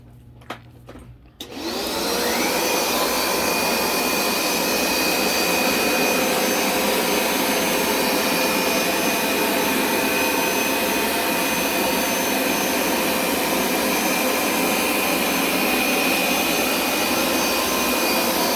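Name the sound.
Hoover SmartWash carpet cleaner running over carpet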